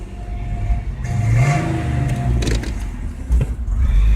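A 1998 Audi A6 Quattro with a 2.8L engine, rough at idle and prone to stalling, revs up sharply as the gas is stabbed fast, the engine note rising and surging close by, then settling with a few uneven bursts.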